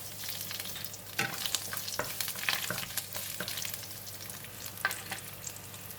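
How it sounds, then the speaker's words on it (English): Garlic slices and spices frying in hot oil for a cauliflower chickpea curry, a quiet steady sizzle broken by repeated scraping stirs of a utensil across the pan. "When the oil is hot, I'm putting in the garlic slices and also all these spices."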